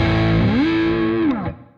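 Electric guitar through a Kemper amp on the bright channel with the neck pickup: a single loud, distorted sustained note bends upward, holds, then bends down and fades out.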